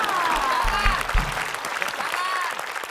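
A studio audience claps during an Indonesian TV game show, a steady ripple of applause with a few low thumps and a cheering voice rising over it briefly, with the host's voice heard faintly in the mix.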